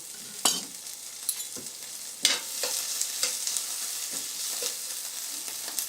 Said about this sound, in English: we're going to give our onions and garlic a stir